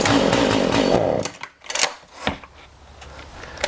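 A chainsaw with a freshly primed carburetor fires up and runs with a loud buzzing whine for about a second, then sputters and bogs into uneven bursts and revs.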